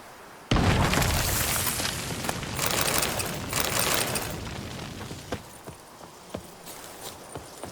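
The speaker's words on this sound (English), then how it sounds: "Gotta blow this up if I want to get rid of the Endrigas." A large explosion in The Witcher 3, used to clear out Endriagas, bursts in with a sudden loud broadband blast, then rumbles and crackles as debris settles, with scattered sharp pops and thuds trailing off.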